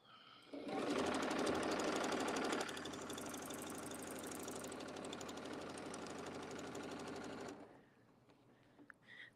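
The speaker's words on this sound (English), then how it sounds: "now I'm going to sew 1 inch right on the line" A sewing machine stitches along a marked line in a rapid, steady mechanical chatter that starts fast, eases to a slightly slower even pace, then stops, with a few faint clicks afterward.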